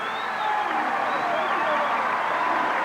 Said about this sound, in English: Sellout crowd on hand making some noise here in the Civic Center in Baltimore